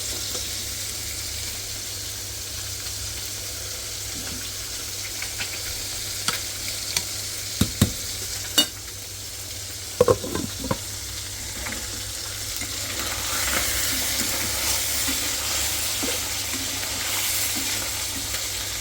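Puri fish fry in a pan with a continuous close sizzle, a few sharp clinks and stirring noises in the middle, and the frying growing louder toward the end.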